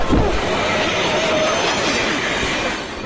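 Animated train running along the rails, a loud steady rumble with wheel squeal and faint clickety-clack, alone and fading slightly at the end.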